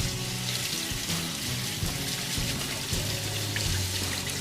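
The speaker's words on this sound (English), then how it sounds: "Wash my hands off here." Hands being washed under a running tap in a kitchen, steady broadband rush of flowing water with faint clatter and a low hum beneath.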